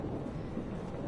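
Thunderstorm ambience in the video game Life is Strange, a low continuous rumble of rain and wind with a steady, even texture and no speech.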